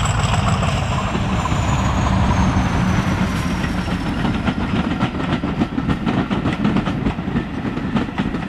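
Class 50 diesel locomotive passing at close range, a loud continuous engine roar with rhythmic clickety-clack of wheels over rail joints building through the pass.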